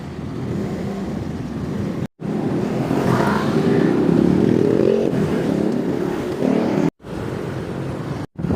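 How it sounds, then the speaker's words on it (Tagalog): Slow bumper-to-bumper road traffic on EDSA heard from inside a vehicle: a steady, close engine rumble and road drone with brief dropouts, rising slightly as the vehicle creeps forward. "Traffic, bumper to bumper"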